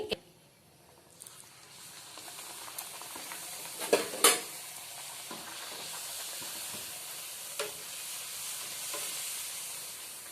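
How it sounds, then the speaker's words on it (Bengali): Spinach kochuri deep-frying in hot oil gives a steady bubbling sizzle and hiss. A sharp splash and crackle come as the dough drops in, then the frying settles into a constant, moderately loud fizz. "এইটা এবারে আমি ভেজে আপনাদের দেখাচ্ছি।"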